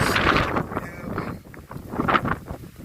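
Gusty wind on the dry, rocky open ground of Lincoln Mountain buffets the microphone in uneven, rushing surges, with footsteps on rock faintly beneath.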